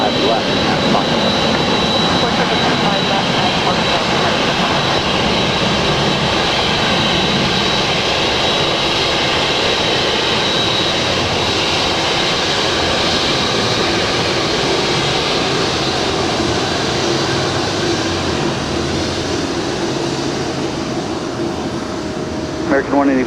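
A jet airliner at LAX gives off a loud, continuous engine roar and broadband rush that fills the whole stretch with steady intensity, while faint voices murmur beneath it.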